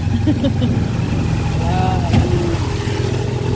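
Tricycle engine idling in the rain in Manila, a steady close putter under a rainy hiss, with a voice speaking over it.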